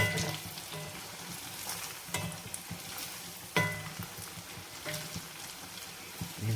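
Rice flour fritters (punugulu) fry in hot oil, giving a steady close sizzle and bubbling with scattered sharp crackles and pops throughout.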